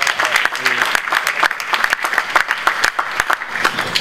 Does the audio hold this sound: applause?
yes